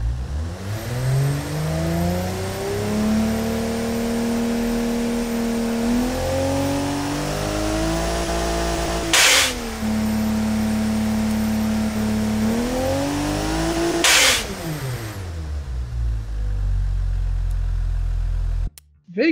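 A carbureted engine with VVL, VVT and forged internals in an SUV in the video game BeamNG revs through rising and falling pitches, loud and continuous, with two sharp bursts as gears change before cutting off.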